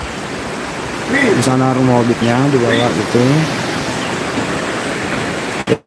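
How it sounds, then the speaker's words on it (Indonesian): Water roars steadily at Curug Tillu waterfall, a loud continuous broadband rush filling the whole scene while someone talks over it in the foreground. "Itu suara yang Anda dengar itu suara air curug tuh."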